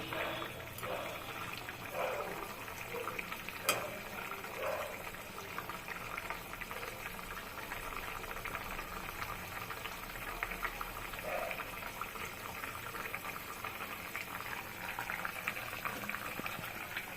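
A thin Bengali boroli fish curry with potato, pointed gourd and tomato simmers in a pot, making a soft, continuous bubbling that stays faint throughout, broken once by a brief metallic clink.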